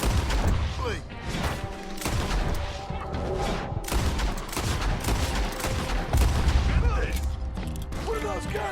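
Dense bursts of enemy gunfire in Red Dead Redemption 2, repeated rapid shots and mechanical clatter rattling loudly throughout, mixed with brief speech and battle noise.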